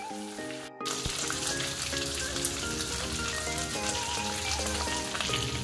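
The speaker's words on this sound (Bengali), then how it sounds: "তো চলো এবার কই মাছগুলো আমি ভেজে নিয়ে আসছি" Koi (climbing perch) fish frying in hot oil, a steady dense sizzle with crackling pops throughout, loud and close, with a brief cutoff near the start.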